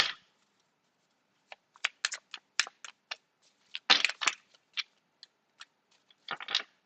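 Tarot cards being shuffled by hand, giving a run of short, crisp riffling and tapping bursts in uneven rhythm, close and fairly quiet, with no talking.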